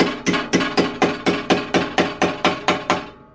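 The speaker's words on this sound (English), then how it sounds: "this is going to planish that out" A rapid, even series of about a dozen nylon-faced hammer blows planishing a sheet steel sill repair panel, each a bright metallic tap with a short ringing decay, close and steady.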